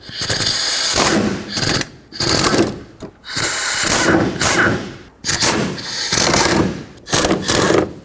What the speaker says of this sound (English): Take out these three bolts on the driver's side.